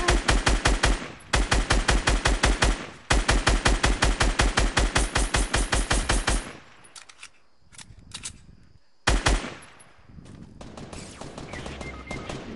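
Automatic gunfire in a PS4 video game rattles out in long, rapid, evenly spaced bursts with a short break, then fades into scattered shots and a final loud burst.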